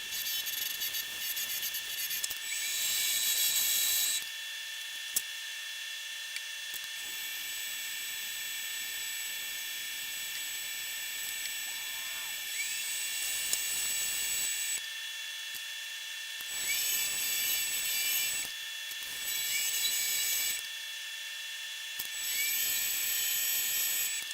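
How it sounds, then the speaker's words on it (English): A high-pitched rotary tool whines steadily, cutting in and out in bursts as it sands a small object, with no talking. "started sanding everything down again once that was dry"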